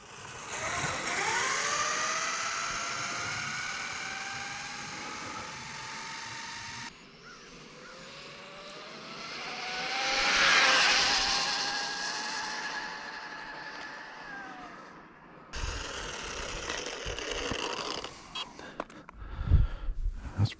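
Castle Cobra 8 radio-controlled car with Castle motors making repeated speed passes, each a loud high-pitched electric whine that sweeps up and fades as the car races by, with gaps between passes and clatter at the end.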